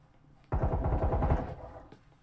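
Automatic gunfire in the video game Breachers, with a rapid burst of close, loud shots lasting about a second before trailing off, with no talking.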